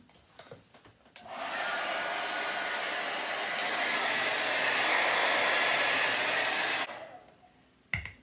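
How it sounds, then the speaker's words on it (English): A blow dryer drying a finish on furniture before silver leaf gilding roars steadily for several seconds with a broad whooshing hiss, starting and stopping abruptly, loud and close. "Again with the blow dryer."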